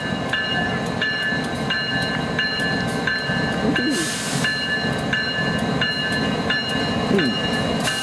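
Close, steady roar of a passing Norfolk Southern coal train hauled by GE locomotives, with rhythmic clatter and ringing metallic tones repeating from the cars and a brief hiss of air partway through.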